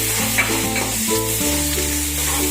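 Hot oil sizzling while a spoon stirs aloo paratha filling of boiled potatoes and asafoetida in a pan, a close, steady hiss with soft scraping strokes and no talk.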